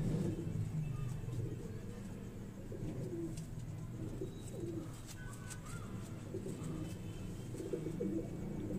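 Pigeons coo softly in low, repeated murmurs against a rumbling background, with occasional faint clicks and distant traffic noise.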